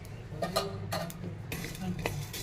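Poppy seeds stirred into dry-roasting whole garam masala spices in a pan for Malvani masala paste, giving light scraping and clinking of a utensil against the pan in scattered taps over a low steady background.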